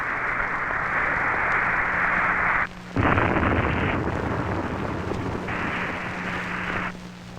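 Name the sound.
Titan II missile launch failure explosion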